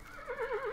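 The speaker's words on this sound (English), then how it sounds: "You can find a loud horse." Horse in the video game Oblivion lets out a loud, close whinny with a wavering, rising-and-falling pitch, heard alone without talk.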